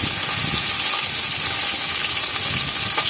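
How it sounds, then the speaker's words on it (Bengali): Bele fish frying in a zinc wok gives a steady, loud, close hiss and sizzle that holds evenly throughout with no pauses. "মাছটা বেলে মাছ কিন্তু একটু বেশি করে ভালো করে ভাজতে হয়"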